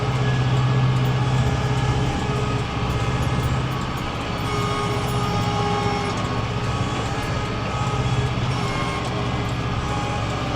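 A farm vehicle crawls along in two-wheel drive and low gear while hauling hay, giving a steady, loud, close engine drone with a low rumble throughout and no talking.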